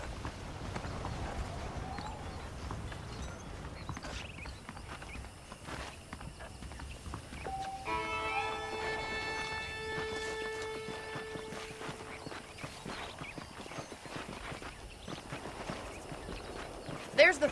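Saddled horses clip-clop at a steady pace in Red Dead Redemption, soft hoofbeats running throughout beneath game music and occasional background sounds, with a voice speaking over them.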